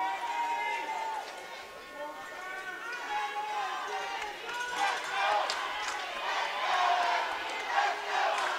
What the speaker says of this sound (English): They're already starting with their cheering and their chants.